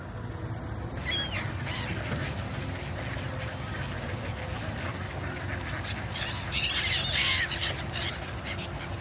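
Ducks and geese on a frozen pond give out scattered quacks and honks, some near and some farther off, over a constant outdoor wind rumble, with no talk.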